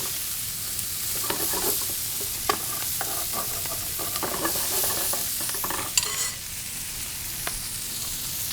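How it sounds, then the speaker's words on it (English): Shallots frying and toasting in bacon fat and olive oil, a steady soft sizzle broken by a few scrapes and clicks of stirring, close to the pan. "You can start to really smell the shallots getting toasted off in this bacon fat and olive oil."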